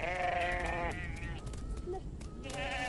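Sheep in the Ethiopian highlands, kept in Amhara herds with cattle and goats, give one loud, wavering bleat at the start, followed by quieter, scattered farmyard sounds close by.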